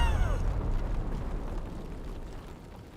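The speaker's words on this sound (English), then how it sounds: "Mortar team, eat mortar." A mortar explosion in the video game Menace booms heavily at the start, then a long low rumble trails off and slowly fades over a few seconds, with no talking.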